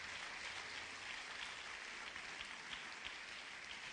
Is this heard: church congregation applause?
yes